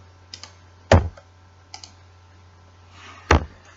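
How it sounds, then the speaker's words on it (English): Arrow keys on a computer keyboard pressed during a shape-drawing software lesson, giving a few sharp, isolated clicks with gaps between them over a steady low hum, no talking. "with your keyboard arrows with it selected"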